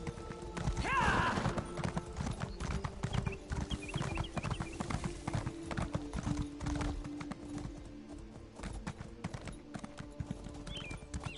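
Horse hooves clip-clop steadily at a riding pace in The Elder Scrolls Online, close and continuous, with a brief whinny near the start and faint game ambience underneath.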